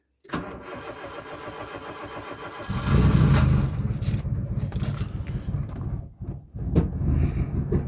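A Nissan Micra K11 engine cranks with a steady whirring starter for a few seconds, then catches and roars into a loud, rough idle close by, dipping briefly before revving again.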